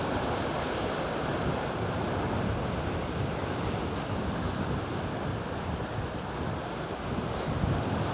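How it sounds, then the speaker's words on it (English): Ocean waves crashing against a rocky coastline, a continuous roar of surf with wind buffeting the microphone, waves surging and smashing steadily without any talk. "there's like a really big set of waves, and it really crashes with a lot of velocity"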